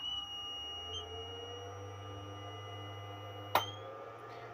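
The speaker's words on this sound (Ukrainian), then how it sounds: "вмикаю інвертора" An ERYUAN power inverter switching on and running, giving a steady electrical hum with thin high whines and one short sharp click partway through, close and fairly quiet, with no speech.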